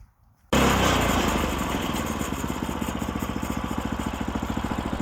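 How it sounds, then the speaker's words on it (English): A Woodland Mills HM122 sawmill kicks from silence into a loud, steady engine drone as it makes its first cut into a log, with a rapid regular pulsing running through the sustained noise. "So here's the first cuts with the saw"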